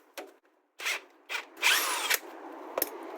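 Power tool whirring in short bursts while loosening a brake caliper bolt on a Renault Clio during a front pad replacement, several brief spins separated by gaps, close by and fairly loud.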